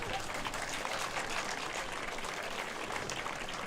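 An audience of students claps at the roll-out of a student-built race car, a dense, even patter of many hands heard from some distance at a fairly low level, with no break for the whole stretch.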